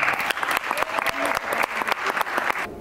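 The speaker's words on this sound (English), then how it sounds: "Please give a round of applause for Daniel Lloyd." Steady audience applause at a TEDx talk, dense clapping filling the short stretch and cutting off abruptly just before the end.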